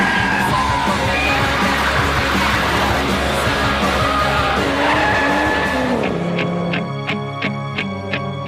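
A car's tyres squeal loudly and continuously through a burnout at traffic lights. After about six seconds the screech gives way to rough, pulsing engine revs.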